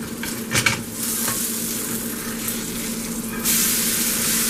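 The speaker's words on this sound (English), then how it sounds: "Once the butter starts bubbling up a little bit, then you throw your potatoes in." Potatoes fry in bubbling butter in a hot pan, giving a loud, steady sizzle that continues for the whole stretch and swells briefly near the end, with a few soft stirring scrapes and no talk.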